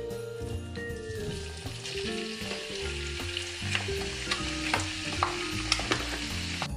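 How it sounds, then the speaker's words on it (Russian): Speck sizzles and crackles in melted butter in a pan, a steady close frying hiss with spattering pops and occasional stirring scrapes, no voices. "наш шпек обжаривается вот до такого состояния"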